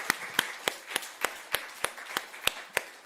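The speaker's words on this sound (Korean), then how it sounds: "우리 젊은 새싹들을 위해서 한번 박수하겠습니다." A church congregation claps for its young members in about eleven evenly spaced, crisp claps over three seconds, steady and fairly close, with no talk over them.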